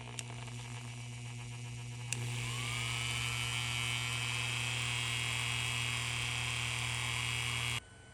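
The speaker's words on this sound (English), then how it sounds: "It's time to drill the 2 small holes in the back here" Small motor tool drilling holes in a die-cast Matchbox Lamborghini Centenario car body, a steady high whirring drone that starts up and runs for several seconds before stopping abruptly.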